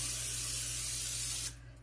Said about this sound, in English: go ahead and spray it a little